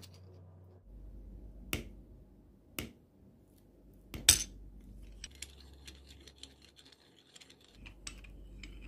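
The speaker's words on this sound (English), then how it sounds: "I am using crystal press tool to remove the crystal" A crystal press tool pushing the crystal out of a watch during servicing, giving a few sharp, separate clicks and snaps over a low workshop hum.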